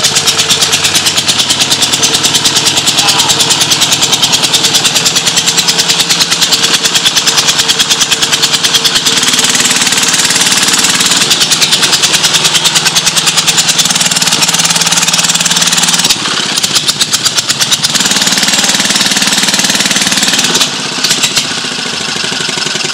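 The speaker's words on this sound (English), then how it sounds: "So he's going to start up this drag saw for us." Vintage drag saw engine at a collection of unrestored old cars, firing up and running loud and close in a rapid steady chatter, with a brief stumble late before it keeps going.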